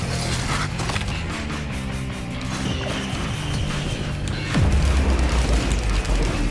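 Missiles exploding in a video game, heavy booms and crashing blasts layered over dense game noise, with a deep low rumble swelling louder near the end.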